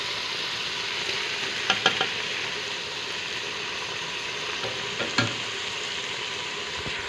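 Ginger garlic paste, tomato and green chili fry in a pan for a chicken chana curry, giving a steady, close sizzle throughout with a few brief stirring clinks and scrapes.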